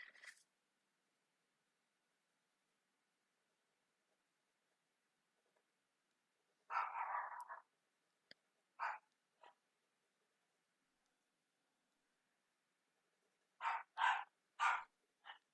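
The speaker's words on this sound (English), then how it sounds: "someone is home and my dog is going crazy" A dog barks indoors in short, muffled bursts: one cluster, a couple of single barks, then a final flurry, with long stretches of quiet between them.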